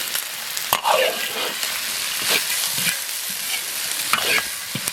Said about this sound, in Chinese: 锅里少留一点油，下入葱姜蒜，炒香下入鸡脯肉。